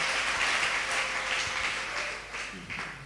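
A church congregation claps and applauds the Lord, a steady wash of many hands close by, with a faint voice underneath.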